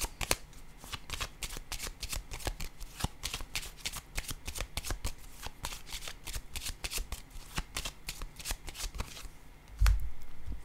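Tarot cards riffled and shuffled in quick, dense bursts of crisp papery flicks, then laid down on a surface. A soft thud follows near the end, with no talking.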